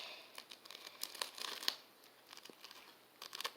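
Thin plastic on a sanitary pad crinkles and tears in short, faint bursts of rustling and snapping, scattered irregularly across a few seconds of quiet.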